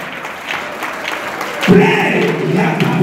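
A church congregation claps hands during a Wednesday prayer service, with faint scattered clapping swelling into fuller, steady applause partway through, voices mixed in.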